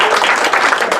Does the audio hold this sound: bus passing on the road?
no